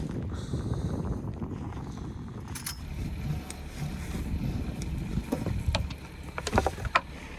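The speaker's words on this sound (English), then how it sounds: "Time to warm up the engine while I go untie from the mooring buoy" The inboard engine of a Catalina 36 sailboat idles at a mooring buoy, a low, steady rumble under gusty wind noise, with occasional knocks and clatter on deck.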